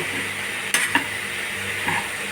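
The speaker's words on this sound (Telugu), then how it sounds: "బీరకాయ తొక్కులో పీసు పదార్థం ఉంటుంది కాబట్టి ఇలా ఒకసారి కలదిప్పుదాము" Ridge gourd and prawn curry stirred in a cooking pan, giving a soft sizzle broken by a few quick scraping clinks of the spoon against the pan, with no talking.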